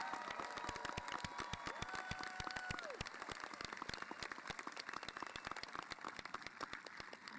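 A graduation crowd applauds students who are joining the military, with dense, sustained clapping that fills the room steadily from start to finish.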